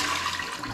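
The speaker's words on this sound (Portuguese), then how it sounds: "e vai dar descarga." A toilet flushes just after a new flush valve has been adjusted, a broad steady rush of water lasting under a second with no talking over it.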